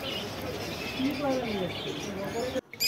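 Faint chirps of caged finches and lovebirds and cooing calls over a murmuring, busy bird market background at Garia, a few short tweets rising and falling.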